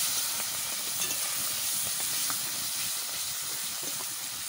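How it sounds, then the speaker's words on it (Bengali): Prawns fry in a hot pan with a continuous hissing sizzle and small scattered crackles and pops, steady and fairly soft, with no voices over it. "চিংড়ি মাছ ভাজা হতে হচ্ছে"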